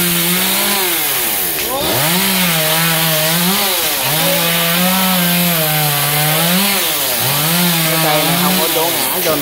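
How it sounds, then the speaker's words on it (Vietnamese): A chainsaw runs loud and close, its engine pitch repeatedly rising and dipping as it bites into a coconut palm trunk, continuous throughout. "Rồi chú mình khởi động máy để cưa đó các bạn."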